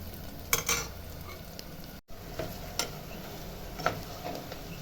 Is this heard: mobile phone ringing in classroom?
no